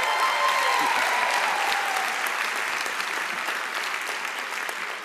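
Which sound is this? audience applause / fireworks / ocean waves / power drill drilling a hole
audience applause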